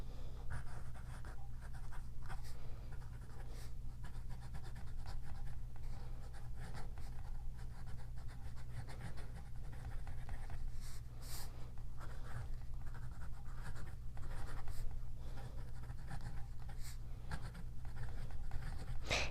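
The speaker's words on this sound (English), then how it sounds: "I will post this and write with it." Cross Apogee fountain pen with an 18K gold, rhodium-plated nib writing on paper, with the cap posted, giving a faint continuous scratchy scribble of strokes over a low steady background hum, with no talking.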